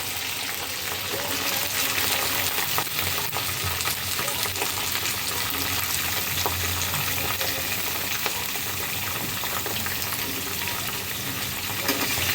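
Potatoes, cauliflower and radish frying in a pan, a dense continuous sizzle with faint scraping from being turned, loud and close throughout, no voices.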